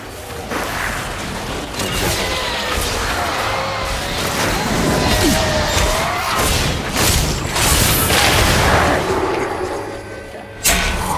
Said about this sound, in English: So the only ability we haven't seen yet is Falling Sword. Let's do that now.